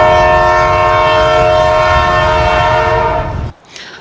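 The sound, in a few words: train passing with horn on a mountain railway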